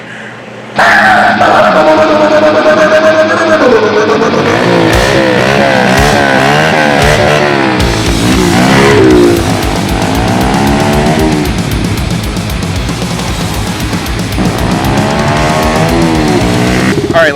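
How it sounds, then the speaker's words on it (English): A dirt bike engine starts and revs hard, rising and falling in pitch through repeated throttle blips and runs, very loud and close, with no speech. "Dirt bike."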